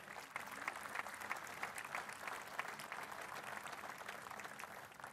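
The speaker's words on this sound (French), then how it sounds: "que je vous demande là aussi d'applaudir" Audience at a New Year's greetings ceremony in Alès applauding an artist, a continuous, even patter of many hands clapping at moderate distance, fairly quiet and unbroken from start to finish.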